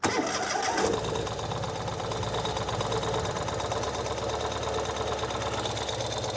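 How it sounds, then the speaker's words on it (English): A 2023 Ural Gear Up Sahara motorcycle fires up after a brief crank and settles into a steady, close, even idle with a rapid ticking chug that stays constant, and no one talks over it. "All we need to do is make sure it's in the run position and start it."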